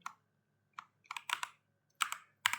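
Bursts of computer keyboard typing while entering program code: a short tap, then two quick clusters of clicking keystrokes, close and fairly quiet with silent gaps between.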